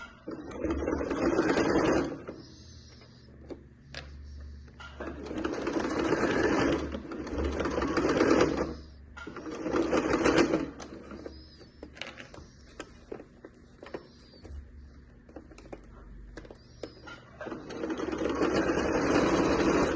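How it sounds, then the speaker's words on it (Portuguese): A sewing machine stitches the seam of a fabric milk-carton box in repeated steady whirring bursts of a few seconds each, separated by short pauses, close and loud with no talking. "Vou posicionar pé de máquina aqui, retrocesso no início e vou costurar até chegar do outro lado"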